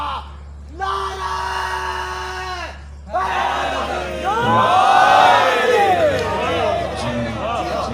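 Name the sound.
crowd shouting slogan response at majlis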